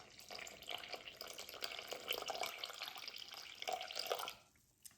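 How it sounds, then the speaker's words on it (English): Warm water poured into a bowl sitting on a kitchen scale for sourdough, a steady close trickling stream lasting several seconds before cutting off, followed by a single faint drip. "I add the warm water and get to 290 grams"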